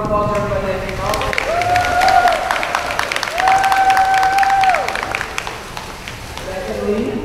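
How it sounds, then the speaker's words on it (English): A gathered crowd claps and cheers for everybody who came out, a moderately loud, ongoing round of applause with voices talking over it and a few tonal sounds mixed in. "Let's get a round of applause for everybody that came out."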